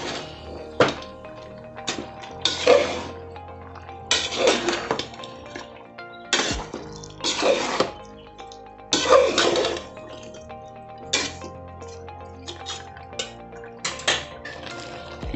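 Grated coconut being stirred into aviyal in a pot, heard as a series of loud, irregular scraping clanks and thunks of a spoon against the metal vessel, repeating every second or two with no talking.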